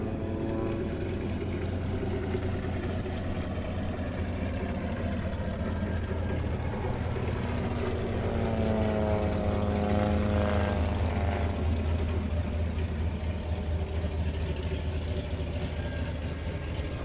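Aerosparx aerobatic aircraft with small 90 horsepower engines fly low over an airshow in severe heat, a steady propeller drone that rises and shifts pitch as they pass, loud and continuous.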